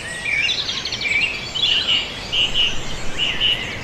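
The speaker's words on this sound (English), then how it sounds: "enjoy the birds of Ireland singing to the world" Wild birds of Ireland sing in a dawn chorus: bright, repeated whistled phrases rise and fall close by, with short gaps between bursts over a quiet background and no talking.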